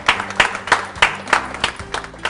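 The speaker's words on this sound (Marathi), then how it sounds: "यांच्या प्रामाणिकपणासाठी आणि या स्पिरिटसाठी एकदा जोरदार टाळ्या होऊन जाऊ देत" Audience at a Nashik modak-making competition claps for a contestant, a short burst of rhythmic, fairly close clapping with periodic louder hits.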